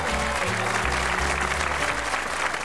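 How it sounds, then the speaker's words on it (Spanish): An audience at a New Year's Eve show applauds, dense and steady clapping that stays even throughout, with a faint crowd murmur beneath. "un aplauso para Nae."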